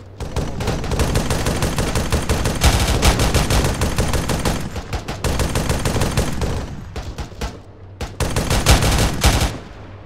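A .50-caliber vehicle-mounted machine gun in the ArmA 3 military game, firing long, loud, rapid bursts at close range, broken by a few short pauses and ending in one final sustained volley.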